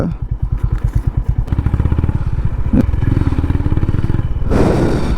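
A motorcycle engine thuds in steady, rapid pulses as it rides up the Sirumalai hill road, loud and close, with the engine note settling into a continuous drone and a brief rattle near the end.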